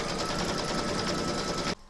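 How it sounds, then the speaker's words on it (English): Embroidery machine stitching an outline onto batting in a hoop, a steady fast mechanical whir and needle chatter running continuously until it stops abruptly. "Pop your hoop into your machine and stitch round number 2."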